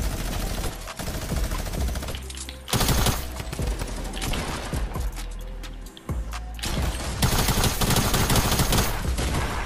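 Rapid automatic gunfire from a video game shooter, dense bursts of fusillade running almost continuously with brief lulls, loud and close.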